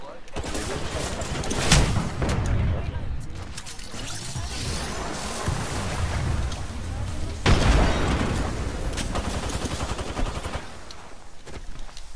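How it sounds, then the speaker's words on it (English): Dense video-game combat with constant gunfire and a couple of heavier booms, weapons including a G7 and a Havoc, continuous and loud throughout with no clear gaps. "Getting shot at."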